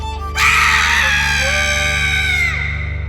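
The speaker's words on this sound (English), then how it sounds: "the air was split with a blood-curdling scream" A loud, sustained, blood-curdling scream in a shadow-play telling of the folktale Halimah and the Snake, a single piercing shriek that holds for about two seconds before trailing off, over a low steady hum.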